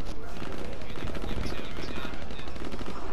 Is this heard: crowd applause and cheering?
no